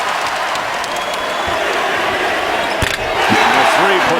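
Arena crowd roaring at a college basketball game between Penn State and Michigan State, a loud sustained swell of cheering that rises toward the end, with a commentator's voice and squeaks underneath.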